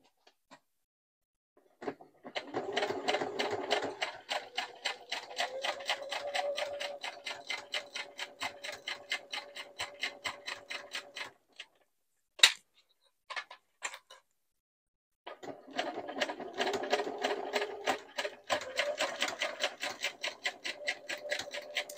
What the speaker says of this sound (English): And we start sewing.